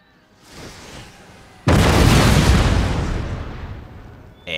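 Artillery fire in the Napoleon: Total War video game, as Ottoman cannon batteries open on Prussian troops. A low rumble builds, then a single heavy boom erupts into a long, roaring decay, with a sharper burst right at the end.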